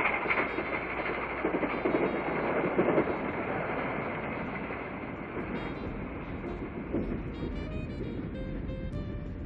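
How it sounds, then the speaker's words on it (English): Nickel Plate Berkshire steam locomotive No. 759 hauls an excursion train, a loud, steady rumble of wheels and running gear rolling continuously nearby, with a few whistle-like tones near the end. "The engine is the nickel plate Berkshire, number 759."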